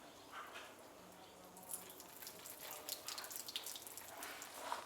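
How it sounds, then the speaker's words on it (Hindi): Tasar silkworm eggs tipped into clean water give faint, scattered splashes and drips over a steady background hiss, with trickling that grows slightly busier toward the end. "अब अंडों को साफ पानी में डालते हैं, जिससे फोकी अंडा पानी के सतह पर तैरने लगता है"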